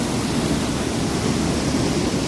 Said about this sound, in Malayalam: വാട്ടർഫോള്